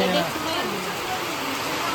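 Rain pours down steadily in a village, a dense, even hiss of falling water heard close and continuous throughout.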